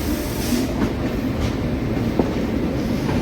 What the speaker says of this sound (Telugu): ఆ పక్క ప్లాట్ఫామ్లోకి ఏదో ఒక ట్రైన్ వస్తుందండి.